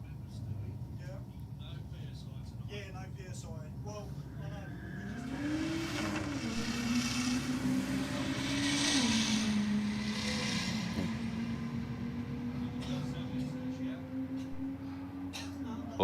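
BMW and Turbo Falcon drag race cars roll up to the start line, a steady engine drone with rising and falling revs and a whining tone, heard under a commentator's voice.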